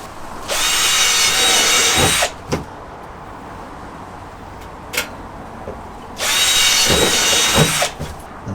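A power drill bores holes through the hull of a Pryml Titan kayak in two loud, steady bursts of a couple of seconds each, separated by quiet handling clicks and knocks.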